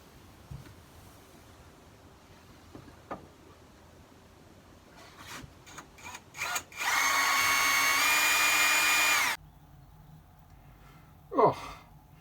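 A borrowed power drill bores holes during electrical work at home, running in one loud, steady burst of about three seconds with a few short, sharp starts just before it and quiet handling noises on either side.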